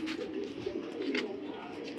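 Young club racing pigeons of the Johnson line coo in a low, continuous throaty murmur, close by, with a few brief higher chirps over it.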